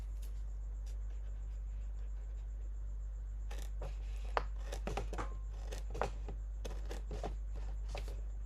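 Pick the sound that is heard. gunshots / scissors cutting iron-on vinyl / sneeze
scissors cutting iron-on vinyl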